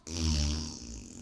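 A single loud, low, buzzing fart from a man lasts about a second, close and alone, with a rough tonal rasp that fades out.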